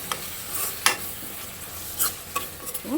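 Tamarind mandakki mirchi masala bubbling and sizzling in oil in a pan, a faint steady fry broken by a few spoon stirs and scrapes, close and quiet, no voices.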